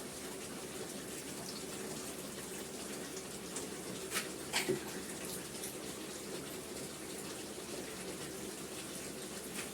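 Ghee jars being washed with lukewarm water and a little soap powder make a steady, moderately faint rush of running water, with a few sharper clinks or splashes midway and no talk.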